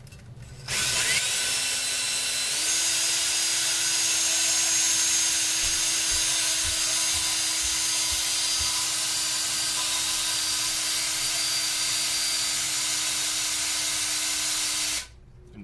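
Slow-speed power drill spinning an engine valve against its seat to lap it on an Oldsmobile 403 V8 cylinder head, a steady whirring hum with grinding hiss that holds for about fourteen seconds before stopping.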